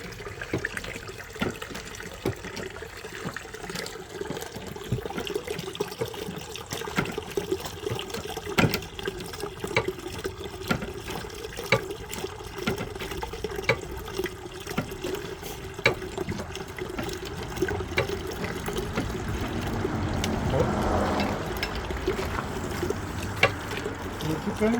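Grape juice runs and drips steadily from a 20-ton hydraulic press as the grapes are squashed during a harvest wine-making session, a continuous liquid trickle that swells toward the end, with occasional voices in the background.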